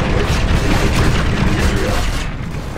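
In a video game, an enemy Sunderer vehicle blows up with a loud, sustained rumbling boom that stays dense throughout.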